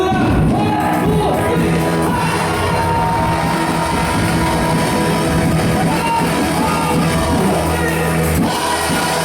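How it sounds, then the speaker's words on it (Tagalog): A church congregation at a revival night service shouts hallelujah together, a loud sustained crowd roar of yelling and whooping voices that fills the whole stretch. "Sumigaw ng hallelujah!"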